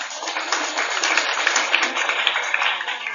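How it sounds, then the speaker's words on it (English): Audience applause for speakers at a lecture on Nawab Wajid Ali Shah and Bengal culture, a steady, dense clapping wash that fills the whole stretch without pause. "a big round of applause for our"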